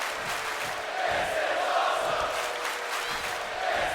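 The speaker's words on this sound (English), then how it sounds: "The crowd going absolutely insane in tonight's sold-out arena." A sold-out wrestling arena crowd roars and cheers wildly in a dense, sustained wall of voices, loud and continuous throughout.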